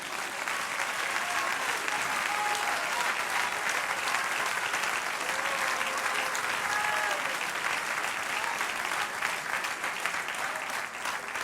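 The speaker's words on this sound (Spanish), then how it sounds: "Dale un aplauso al Señor." A church congregation claps for the Lord during a Spanish-language service, producing loud, continuous applause with a few voices faintly rising above the steady clatter.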